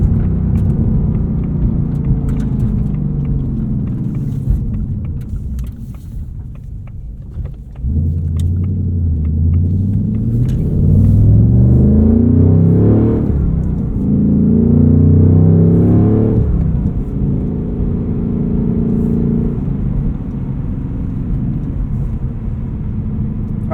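A 2024 Ford Mustang Dark Horse V8 with a Tremec 6-speed manual is driven on the road, its engine rumbling steadily with two rising revs under acceleration and a gear change between them, loud and close.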